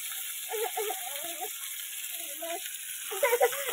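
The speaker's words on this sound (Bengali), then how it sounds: "এই তেলের পরে দিয়ে দিয়েছি পাঁচফোড়ন, আর হচ্ছে আদা গ্রেট করে রেখেছি, দিয়ে এবার এটাকে একটু ভালো করে ভেজে ভেজে নেবো" Grated ginger and panch phoron frying in oil, a quiet sizzle under a constant hiss, with a voice speaking over it in short phrases and a few clinks near the end.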